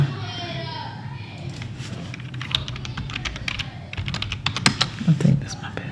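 Computer keyboard being typed on to enter a password at a workstation, a steady run of close, crisp key clicks building into quicker bursts near the end, with a faint room hum beneath.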